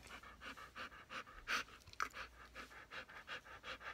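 A dog pants softly and steadily, quick rhythmic breaths repeating about twice a second, close by but faint in a quiet room with no talking.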